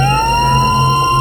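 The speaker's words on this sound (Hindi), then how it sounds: "पुलिस की गाड़ी की आवाज है उस्ताद जी" Police car siren in a Hindi story drama, a loud continuous wail with a rising tone that holds steady, heard alone without talk.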